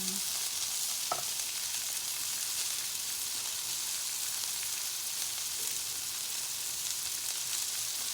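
Chicken nuggets frying in coconut oil give off a steady, even sizzle that holds at one level throughout, with a faint clink near the start and no talking.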